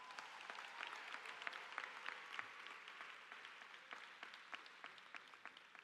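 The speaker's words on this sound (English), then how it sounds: "So please give them as well a round of applause" Audience applause at a high school commencement ceremony held in a university venue, a steady wash of clapping with sharp individual claps standing out, fairly distant and moderately quiet, with no talk over it.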